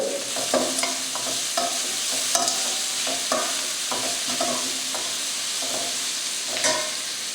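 Onions frying in a pan with a little salt, a steady loud sizzle broken by frequent spatula scrapes and taps close up, with no voice.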